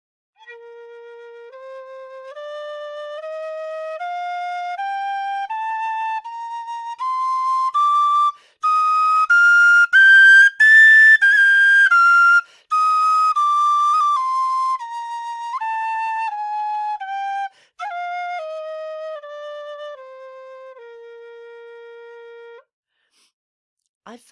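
A lightweight C tin whistle plays a clear, bright scale that climbs steadily note by note and then steps back down. The notes are loud and close, with a couple of short breaks and no talking.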